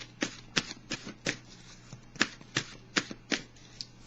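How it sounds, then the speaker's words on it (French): Tarot oracle cards are shuffled up close in a quiet room, with a quick series of crisp, papery riffles and flicks coming in uneven bursts. "Je vais piger une carte de l'oracle de l'âme intuitive pour le signe du cancer."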